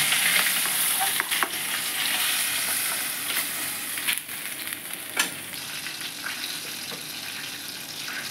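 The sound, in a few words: fish frying in oil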